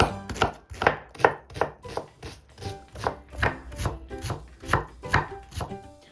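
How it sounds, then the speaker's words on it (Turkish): A knife dices a peeled medium onion into small cubes on a cutting board for spinach soup, giving about fourteen sharp, evenly spaced chops, close and clear with no talking. "Ve ince ince küp küp yemeklik doğruyoruz"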